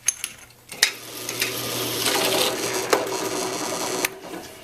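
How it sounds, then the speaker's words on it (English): A drill grinds through a metal punch-out held in a vise, a close mechanical whir broken by sharp clicks and short clanks, stopping briefly before running again. "Now we'll just take a second to drill us a hole right in the center of this punch out."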